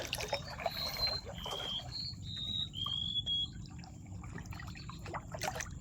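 Footsteps wading through shallow river water while hunting mud crabs, with soft splashing and trickling close by, birds calling above, and no talk.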